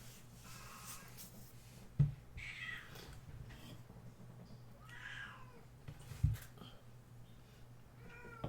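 A house cat meows several times, soft and fairly close, short mewing calls spread through a quiet room with a steady low hum and a couple of sharp knocks.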